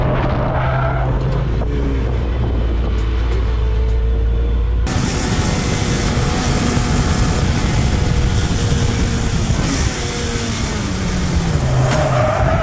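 A race car with a motorcycle engine spins out on a track: a loud, high engine roar and wind rush that suddenly jumps in intensity, with shifting revs and tyre scrub throughout, no voices.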